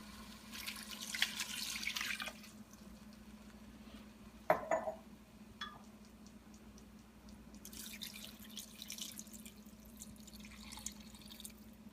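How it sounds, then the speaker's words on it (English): Tap water running and splashing into a soup pot for a paleo zuppa toscana, with short bursts of pouring, a sharp clink of metal, and quieter dripping in between. "fill it the rest of the way with water"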